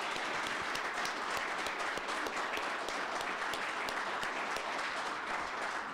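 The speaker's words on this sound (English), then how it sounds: "can we please have a round of applause for our 2 nominees?" Sustained applause fills the room at a UCP nomination forum in Lac Ste. Anne-Parkland as the crowd cheers two nominees. The clapping is a thick, even roar from many hands, steady throughout without letting up.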